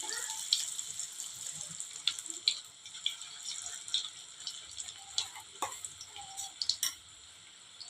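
Food sizzles in hot oil for a home-cooked thali, with a steady crackling hiss broken by frequent sharp pops and spatters.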